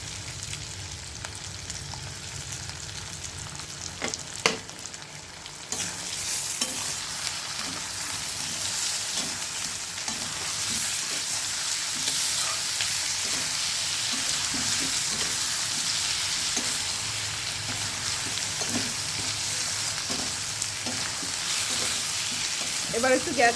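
Onion paste and spices fry in a pan, a steady broadband sizzle throughout with intermittent scraping and stirring clicks, close and moderately loud.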